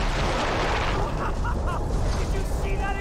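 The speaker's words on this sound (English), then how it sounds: "Did you see that explosion? Something exploded!" Loud, dense rumbling roar of an explosion in the Far Cry 3 video game, a steady blast of noise across the whole clip with a few sharper pops and crackles mixed in, no clear speech.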